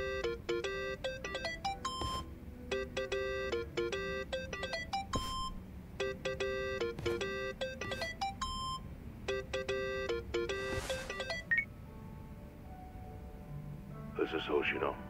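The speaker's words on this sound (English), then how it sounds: "Think that's your phone, man." A phone rings in Yakuza: Like a Dragon, a repeating electronic ringtone melody in evenly spaced bursts, clear and fairly close over a low game background hum, fading out near the end.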